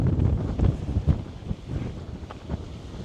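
Gusty wind thumps and rumbles against the microphone in uneven bursts by the water near Narbonne, loud at first and easing to softer buffeting.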